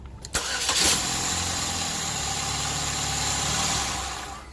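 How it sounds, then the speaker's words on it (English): A car engine cranks briefly, catches with a roar, then settles into a steady idle close by. "the vehicle is cranking and running properly"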